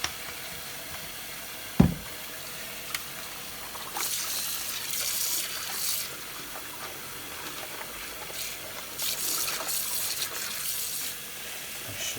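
A tap runs into a sink while a Hoover Junior vacuum cleaner bag is washed in slightly warm water with Ecover, giving a soft, steady stream of flowing water with a sharp knock near the start and louder gushes at times.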